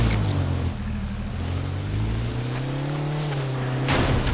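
A vehicle engine in the H1Z1 video game drones steadily and loudly, with a rumbling tone that rises and falls slightly as it revs, and a brief extra burst of noise at the end.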